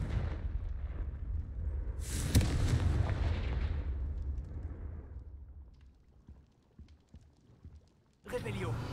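Confringo blasting spell in Hogwarts Legacy: a loud explosive burst that rumbles and slowly fades over several seconds, then a second blast erupts abruptly near the end.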